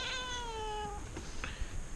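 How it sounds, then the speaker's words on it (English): A young cat gives one long drawn-out meow, close and clear, followed by a few faint shuffling sounds. "That's the baby cat."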